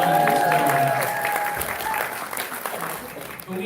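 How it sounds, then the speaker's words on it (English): A room of people at an open mic night applauds, a fairly loud, steady patter of clapping with a voice speaking over it. "Give yourselves a round of applause for all the talent in"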